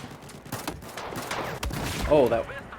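Gunfire from a weapon in Battlefield 4, a rapid burst of shots crackling close and loud in quick succession, with a voice speaking over part of it.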